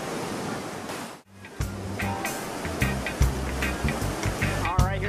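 Class 5 whitewater rapids on the Gauley River roar as a continuous broad rushing wash, with a voice talking intermittently over the steady churning water.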